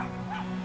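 A dog in the video game Brothers: A Tale of Two Sons gives a short whimpering yip over steady game background hum, brief and fairly soft, with no talk.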